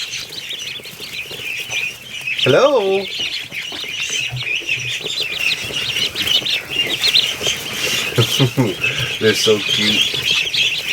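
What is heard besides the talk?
ducklings peeping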